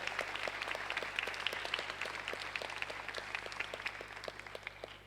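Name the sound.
audience applause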